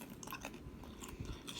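Close, quiet chewing of crunchy baked corn tortillas, a few crisp bites and crackling crunches in quick succession with no talking.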